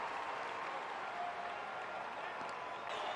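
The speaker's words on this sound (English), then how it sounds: "Real crowd noise in Anaheim tonight." Distant, steady crowd roar with scattered clapping at an Angels baseball game in Anaheim during a full-count at-bat, faint and continuous throughout.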